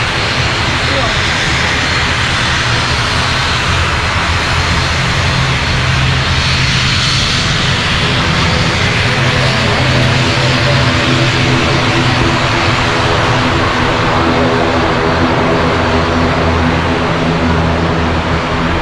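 Fixed-wing airplane engines roar loudly and steadily as a flight arrives overhead, a sustained rumbling drone that swells and holds, with people talking underneath.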